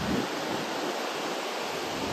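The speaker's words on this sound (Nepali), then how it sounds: "यो चाहिँ सेती नदी" The Seti river in Bajhang District, Nepal, a steady broadband rush of flowing water with some wind buffeting on the microphone, continuous and fairly loud, without voices.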